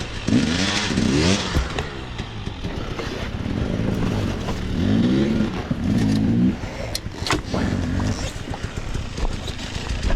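A Husqvarna TE 300 two-stroke dirt bike engine revs in uneven bursts on a trail, loud and close throughout, its pitch rising and falling as the rider works the throttle, with occasional voices in the background.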